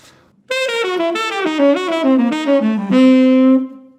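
A clean, close melodic instrument plays a quick descending diminished arpeggio lick, running note by note downward and settling on a held final tone, with no talking over it.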